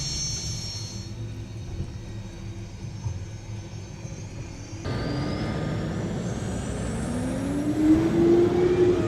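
Engines of unlimited hydroplane race boats spool up at the 2019 Guntersville Hydrofest final heat. A low, steady roar suddenly grows louder and broader partway through, then a rising turbine whine climbs near the end.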